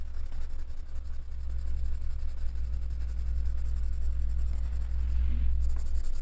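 Coloured pencils scratch steadily across a paper colouring page, a close, continuous dry rasp over a low background hum.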